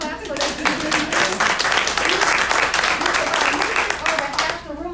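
A room full of seminar attendees claps together in sustained, dense applause that stays loud and steady for several seconds, with a few voices mixed in.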